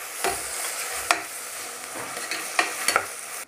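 Crushed ginger, garlic and green chili paste fries with onions for a pressure-cooker biryani: an even sizzle runs under several close, crisp spatula scrapes and clicks against the pan.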